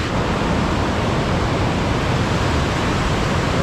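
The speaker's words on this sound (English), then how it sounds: "The upper falls right there." Loud, steady roar of the upper falls at Moon River Waterfalls, a dense constant rush of falling water close by with no pauses.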